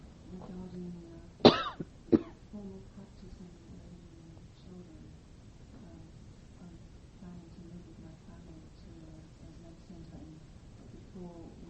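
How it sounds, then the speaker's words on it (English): A woman coughs twice in quick succession during a meditation talk, sharp close bursts that stand out before quiet, low speech resumes. "I'm starting to cough, so I'm going to stop."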